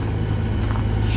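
Snowblower engine roaring while throwing out chunks of ice, a steady low rumble with some rougher, gritty texture over a brief stretch.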